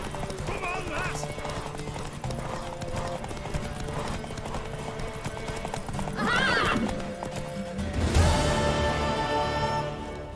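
A horse in The Witcher 3 video game, with steady clip-clop hooves and two loud neighs. Spoken dialogue and game sounds run alongside them.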